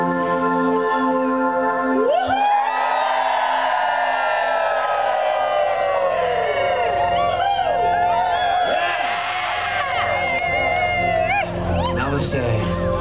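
After a short pause, a gathered group bursts into loud joyful cheering, whooping and shouting that swells and carries on for about ten seconds, close and energetic, with scattered shouted voices near the end.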